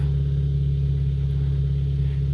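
A Hyundai Veloster engine idles steadily close by, a low constant rumble with no clear rise in pitch or revving.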